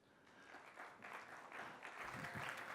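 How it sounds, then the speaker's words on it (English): A conference audience applauds a CEO called to the stage, a faint, distant wash of clapping that builds slightly toward the end. "Give him a warm round of applause."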